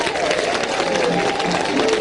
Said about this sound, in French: Et les gens applaudissent.